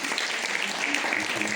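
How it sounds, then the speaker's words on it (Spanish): Applause from an audience at an award presentation event in Losar de la Vera, a dense, even wash of clapping held steadily through a short stretch, moderately loud with no speech over it. "Un aplauso."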